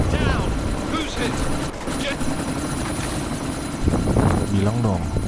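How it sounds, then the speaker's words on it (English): Helicopter rotor thudding steadily throughout a combat scene in the video game Deus Ex: Mankind Divided, loud and constant beneath shouted voices and gunfire-like bursts. "Miller, chopper's been grounded"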